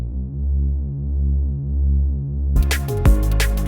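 Synth bass in Ableton with distortion and chorus, a thick sustained note with a slow wavering swell, joined near the end by sharp percussive hits, loud and with no voices.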